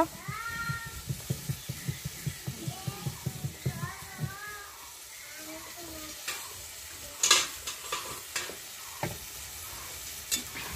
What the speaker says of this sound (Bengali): করলা ভেজে নেওয়া হচ্ছে